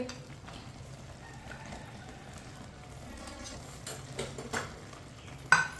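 Sweet vermicelli (seviyan) with sugar gets stirred in a pan, giving soft scraping and light clinks of a spoon against metal, quiet and close, ending in a sharper knock near the end, with no talk.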